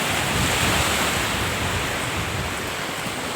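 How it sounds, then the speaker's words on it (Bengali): Sea waves wash steadily against the shore at North Bay Island, a constant broad roar mixed with wind buffeting the microphone, with no voices. "জলের কোলাহল।"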